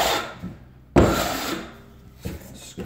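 Drywall joint compound scraped by hand with a knife over a taped flat joint: a loud, close rasping sweep, then a softer follow-up scrape, with no talk.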